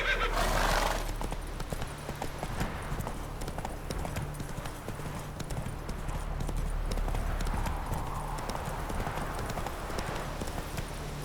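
In The Witcher 3, the horse Roach clip-clops along in a steady, close hoof rhythm, with a brief whinny near the start and faint ambient sounds behind.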